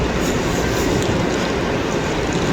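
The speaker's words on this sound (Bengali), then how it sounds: "হারামেন হাই স্পিড বুলেট ট্রেন" A steady, loud rumble of the Haramain high-speed train running at speed from Mecca, a dense continuous roar with no breaks, heard from inside or close by.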